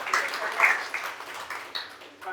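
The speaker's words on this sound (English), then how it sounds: "Round of applause." A small group at a business networking meeting gives a short, light round of applause, scattered claps that soften quickly, with a voice briefly audible among them.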